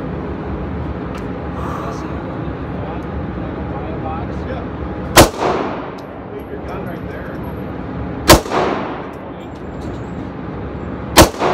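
Three sharp, loud Taurus PT1911 pistol shots ring out a few seconds apart at an outdoor range, each with a brief echoing tail over steady background noise.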